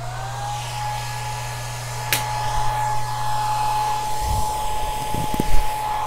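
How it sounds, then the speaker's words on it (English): A hair dryer blows with a steady whine and hum throughout, drying clay luminaries on a table, joined by a few light clicks and clatters as tools are blown off the table. "So we're using hair dryer, and I'm blowing my tools off the table, which is great."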